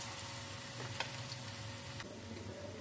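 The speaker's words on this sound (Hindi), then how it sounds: "बाकी भी हम पकोड़ों को इसी तरह से फ्राई कर लेते हैं।" Pakoras sizzle in hot oil, a steady close bubbling hiss with a few faint ticks and clinks mixed in, and no voices.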